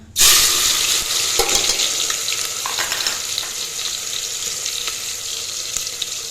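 Spiced masala hits hot oil with a sudden loud hiss, then a sustained crackling sizzle that fades slightly. Scattered clinks are heard, with no voices.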